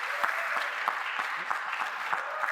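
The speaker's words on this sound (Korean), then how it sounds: "그냥 앉아서 박수 쳐주시면 감사할 것 같습니다" A church youth-service congregation claps while seated, a steady wash of many hands applauding together at moderate volume and held evenly throughout.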